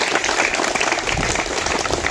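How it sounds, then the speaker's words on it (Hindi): An audience at a girls' high school Space Day event applauds, a dense, steady burst of many hands clapping together at close range for a couple of seconds. "आप एक बार जोरदार ताली बजाकर उन वैज्ञानिकों का"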